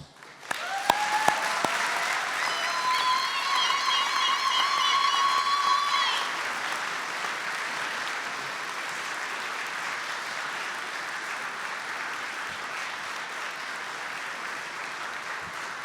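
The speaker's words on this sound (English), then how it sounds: "Now it's your opportunity to applaud your family and friends for all the support they have given you" A large graduation ceremony audience applauds family and friends, a dense sustained wash of clapping that fills the hall for several seconds before gradually thinning into steady, quieter applause.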